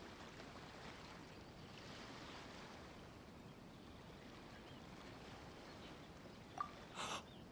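Ocean waves washing on a harbor shore in the video game Genshin Impact, a soft steady surf wash with wind, ending in a couple of brief louder sounds.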